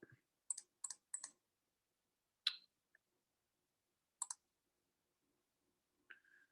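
Computer mouse clicks in a quiet room while working in CAD modeling software: a few sharp, faint clicks in small clusters, a couple of double clicks and scattered single ones spaced over several seconds, with no voices.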